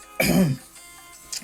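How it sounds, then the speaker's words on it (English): A single harsh throat clearing and cough from a man, close and loud for about half a second, followed by quiet room tone and a faint trailing rasp. "God, I need to cough."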